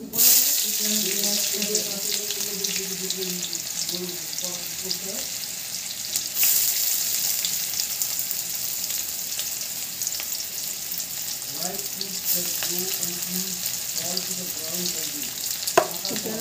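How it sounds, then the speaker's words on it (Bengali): Chopped onions fry in oil in a pan for a Bengali desi chicken kosha, giving a steady broadband sizzle that runs the whole time, with faint voices at moments. "পেঁয়াজটা একটু ভাজা ভাজা নরম হয়ে যাবে পেঁয়াজটা"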